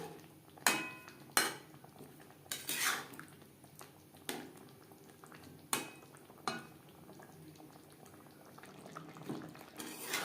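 A spoon stirs vegetarian navratan korma in a cooking pot over medium flame, giving about eight sharp metallic clanks and scrapes at irregular intervals over a soft low background, with no talking.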